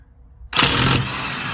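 An electric impact gun spins off wheel nuts during a summer-to-winter tire swap: after a quiet start, a loud, harsh mechanical burst hits for about half a second, then drops into a steady, slightly softer whir that carries on to the end.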